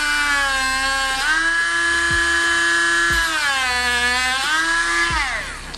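A high-pitched rotary power tool whines loudly while cutting sipes into the rubber knobs of a stock TRX4 RC crawler tire, its pitch dipping and recovering repeatedly as it bites into the tread.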